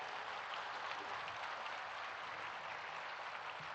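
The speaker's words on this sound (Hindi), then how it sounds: "माननीय प्रधानमंत्री जी के सम्मान में पुनः तालियों की गड़गड़ाहट के साथ" Steady, dense applause from a large crowd honouring the Prime Minister at the Swarved Mandir inauguration, continuous and even throughout with no voices above it.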